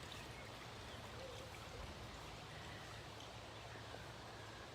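Steady soft trickle of water from a cast waterfall feeding a backyard garden pond, a continuous faint splashing wash with no voices.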